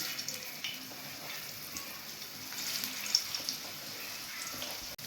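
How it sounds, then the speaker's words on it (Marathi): Onion sizzles steadily in hot oil in a pan for a village-style rohu fish curry, a soft even crackle throughout with a few faint clinks. "तेल गरम झाल्यानंतर कांदा टाकायचा आहे"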